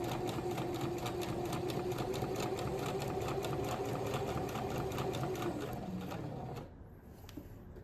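A sewing machine stitches shirt fabric during a shirt-resizing job, running as a steady, fast mechanical whir close by. The motor slows and quiets near the end as the stitching stops.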